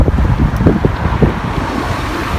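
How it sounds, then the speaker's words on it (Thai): Strong wind buffets the microphone outdoors, a loud, gusty low rumble with irregular thumps running throughout the clip. "ลมก็แรง"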